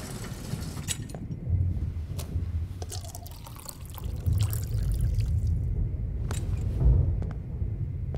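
Water poured into a glass in Life is Strange Remastered, a steady trickling and splashing pour with drips, close and moderately loud, no talking.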